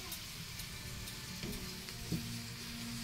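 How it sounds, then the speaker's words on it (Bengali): Pea kachoris sliding into hot oil and frying, a steady close sizzle with faint bubbling and a couple of soft plops, no voices. "আমাদের তেল গরম হয়ে গেছে, এবারে ছাড়া হচ্ছে।"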